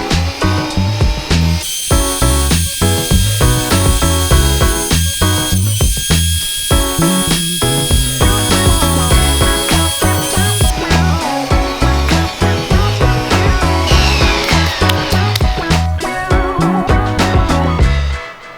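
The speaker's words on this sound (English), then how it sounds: "I just want to run them through the planer to make sure everything is flat" A wood planer flattens sanded skateboard deck pieces, its loud mechanical whine rising and dropping in repeated passes as each piece feeds through, with no talking over the steady machine noise.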